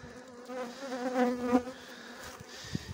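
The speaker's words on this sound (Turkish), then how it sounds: "Arılar çalışıyor." Close, busy buzzing of many honeybees at a hive, wavering in pitch and loudness with no voices.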